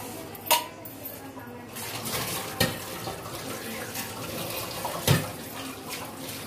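A pressure cooker is rinsed under a running kitchen tap, water splashing steadily with a few sharp metallic knocks of the pot against the sink, close and moderately loud.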